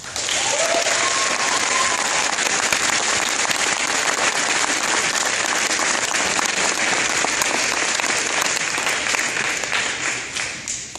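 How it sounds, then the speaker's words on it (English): A crowd at a ninth-grade graduation applauds the teachers loudly and steadily, the clapping sustained throughout and tapering slightly at the end. "give these amazing teachers a round of applause"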